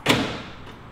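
A Mazda Miata's door locks, driven by an aftermarket keyless entry system, unlock with a single quick, close thunk that decays briefly, with no talk over it.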